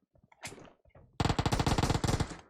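Rapid automatic gunfire from PUBG Mobile erupts loud and close after a brief burst of muffled game noise, a dense string of shots lasting over a second before tapering off.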